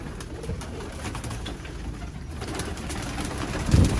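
Pigeons in a pigeon-flying loft in Sialkot, Pakistan, coo softly in the background amid a low rumbling ambience, with a louder thump near the end.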